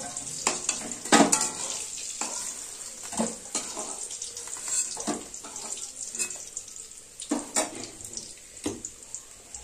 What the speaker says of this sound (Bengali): এই বন্ধুরা, পুরো আলু ভাজা হয়ে গেছে।